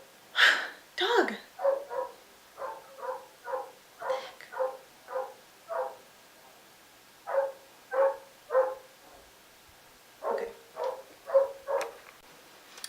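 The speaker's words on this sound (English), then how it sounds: "There's a dog barking outside." A dog barks repeatedly in steady pairs and runs, moderately loud and a little distant, with brief pauses between bursts.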